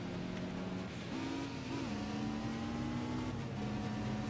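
A car engine in the racing game Cobra 11: Nitro drones and revs through gear shifts, its pitch climbing and stepping in a continuous, fairly loud whine over road noise, with no talking.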